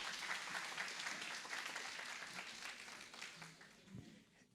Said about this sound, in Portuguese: palmas para o Vitinho